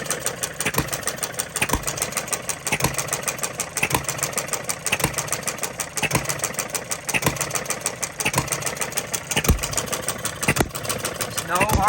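A small Coles engine runs steadily after its battery is hooked up, with regular firing pulses repeating close by and loud for the whole stretch, with no talk over it.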